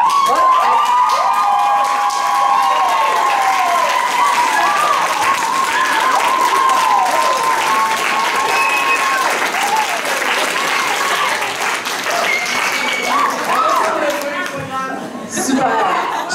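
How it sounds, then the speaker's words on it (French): A graduation ceremony audience at École Ste-Marie in Princeville rises to applaud the people who helped the students, sustained loud clapping with cheers and crowd chatter throughout, easing slightly near the end. "vous preniez le temps de vous lever et d'applaudir les gens qui vous ont aidés"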